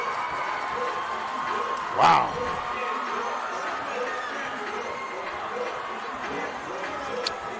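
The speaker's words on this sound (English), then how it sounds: "North High crowd pretty into the situation at this point right here." A North High School basketball crowd keeps up a steady murmur of cheering in the gym, with a commentator's brief exclamation rising above it once.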